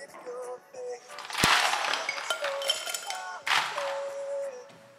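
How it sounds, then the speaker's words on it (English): Ice cubes clink and tumble into a highball glass for a tequila Bloody Maria, sharp bright clatters in two bursts with a steady faint hum underneath, close and fairly loud, no one speaking. "take your highball, fill it with ice"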